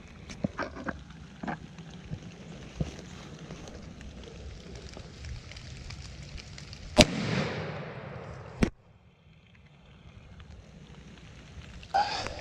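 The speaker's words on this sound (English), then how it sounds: "all that's left to do is shoot this gun" A muzzleloader rifle is fired once at close range, a sharp loud crack followed by a rolling decay, with a second smaller sharp bang after it over faint outdoor background noise.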